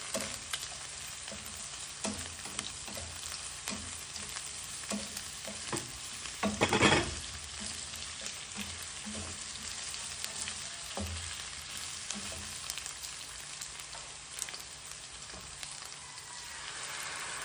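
Onions fry in a pan at home with a steady crackling sizzle and frequent spoon scrapes and stirring taps, one louder burst midway, no talking.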